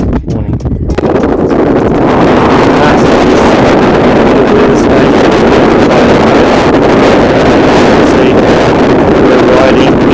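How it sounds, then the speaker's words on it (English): Heavy, loud wind buffets the microphone in a constant roar while cycling into a headwind on a gravel track of the Mawson Trail through hilly farmland. It begins with a brief rustle and continues steadily to the end. "We're riding into a headwind for the last 40 k's."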